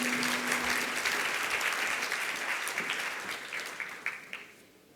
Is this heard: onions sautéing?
no